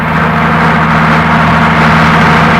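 A vehicle engine runs steadily nearby, a low continuous hum with a faint droning tone that holds level for a few seconds.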